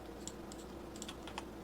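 A few quiet computer keyboard clicks come in two short bursts while someone works in Blender 3D modeling software. No one speaks.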